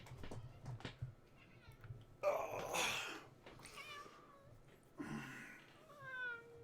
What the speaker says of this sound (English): This cat does not like to be picked up.